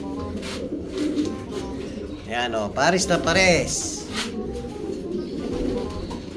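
Soft pigeon cooing runs low in the background while someone speaks briefly over it, close and steady.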